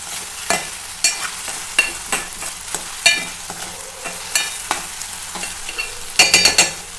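Potato pieces with turmeric and salt fry in a pan while a spoon stirs them, giving a steady sizzle broken by regular scraping strokes about once a second, close and clear, ending in a quick flurry of stirs.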